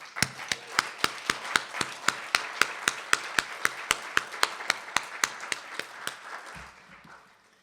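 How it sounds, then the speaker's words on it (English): Steady, evenly spaced claps from an audience at a jazz awards gala in Washington, DC, rhythmic and fairly close, beating in unison for several seconds before fading out. "Let's give a round of applause for the teachers in this room."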